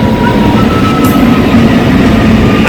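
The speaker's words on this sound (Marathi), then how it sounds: "आत्तूची ट्रेन आली." A train pulls into a busy railway station platform, a steady loud rumble of rolling wagons with a faint high squeal, no voices heard over it.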